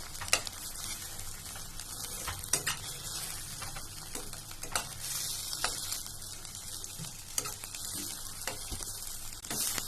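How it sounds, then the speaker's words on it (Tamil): Spring onions sauté with cauliflower for hotel-style gobi manchurian, crackling in a steady sizzle with scattered clinks and scrapes of a spoon stirring the pan, close and alone without any talk. "இது கொஞ்ச நேரம் வதங்கிட்டே இருக்கட்டும்."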